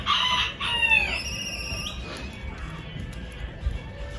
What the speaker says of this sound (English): these roosters, they sing all day, every day